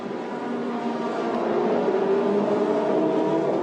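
Formula Renault Eurocup race cars at Spa-Francorchamps, braking through the tight right-hand La Source hairpin on the last lap, produce a steady, loud engine drone with no break, tonal whine sitting over a continuous roar.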